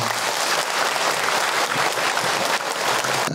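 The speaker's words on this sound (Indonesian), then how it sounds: "Tepuk tangan untuk kita semua." An audience at an Islamic lecture breaks into steady applause, a continuous wash of clapping from many people at moderate volume throughout.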